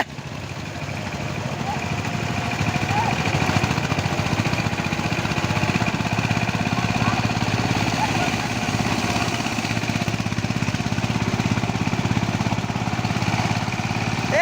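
A power tiller engine runs continuously on a farm field, a steady mid-pitched mechanical drone with rapid pulsing, loud and close throughout, while people talk over it.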